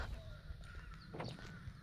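Crows cawing among tall trees in a mountain valley, a few faint harsh calls at a distance over quiet outdoor ambience.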